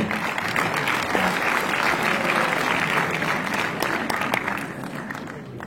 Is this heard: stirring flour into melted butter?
no